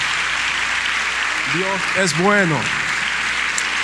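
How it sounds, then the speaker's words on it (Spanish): Church congregation clapping at a Spanish-language worship service, a dense steady patter beneath a voice that speaks and calls out over it. "Dale el aplauso fuerte al Señor."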